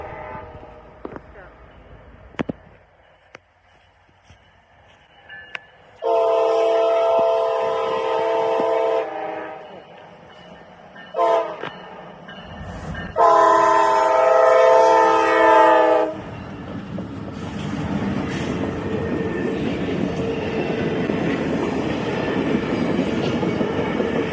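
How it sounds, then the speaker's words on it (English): A passenger train's horn blares in long blasts at the Plain City/Georgesville Road crossing near West Jefferson, Ohio, then the heavy rumble and rattle of railcars rolls past close by, continuing steadily to the end. "club member Jacob Broll caught the train at the Plain City/Georgesville Road railroad crossing east of West Jefferson, Ohio"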